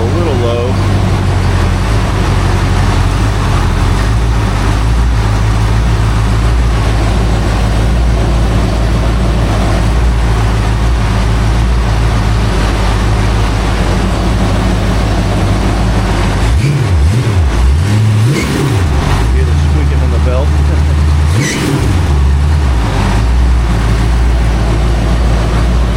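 A rebuilt Ford 289 V8 runs at a steady idle on a home-made engine stand, its low rumble constant and close with a few brief rises in revs near the end.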